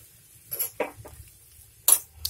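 Spoon clinks and scrapes against a pan while masala sweet corn with chaat masala and lemon juice is stirred off the flame, a few short metallic taps and rustles close up, quiet overall.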